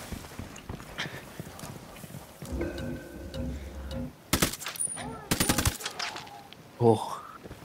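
Machine-gun bursts and single shots crack out during a Ghost Recon Wildlands co-op mission, loud and close. Rapid broadband volleys come in clusters amid engine and ambient game noise, with a voice briefly heard.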